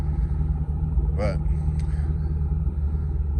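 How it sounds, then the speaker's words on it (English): Low idle rumble from a 2011 Camaro with an LS engine and Corsa exhaust, a steady deep drone throughout with someone speaking briefly over it. "definitely got that Corsa tone that you want with an LS car"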